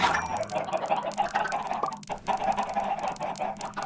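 Chickens cluck repeatedly in a video game amid a busy layer of game sound effects and background music, fairly loud and continuous.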